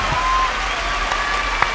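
A crowd claps steadily for a couple of seconds at a song festival stage, with a moderate burst of applause that stays even throughout.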